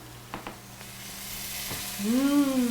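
Tomato sauce for a white bean shakshuka simmers in a pan with a low steady sizzle, a few soft utensil knocks early on, and a rising whistling tone near the end.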